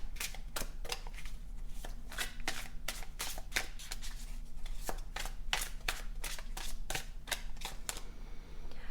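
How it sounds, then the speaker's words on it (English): Tarot cards shuffled by hand in quick repeated riffling bursts, close and crisp, with a fairly steady rhythm over several seconds and no voices. "So let's get some tarot cards out."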